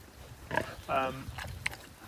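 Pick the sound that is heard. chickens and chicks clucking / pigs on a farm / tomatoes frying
pigs on a farm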